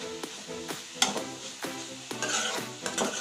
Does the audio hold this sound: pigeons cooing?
no